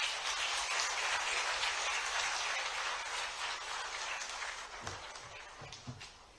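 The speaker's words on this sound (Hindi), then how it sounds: "एक बार पुनः जोरदार तालियों से अभिनंदन" Sustained applause from the audience at an interactive session with the Madhya Pradesh Chief Minister in Pune, fairly distant and even, tapering slightly toward the end with a few louder isolated claps.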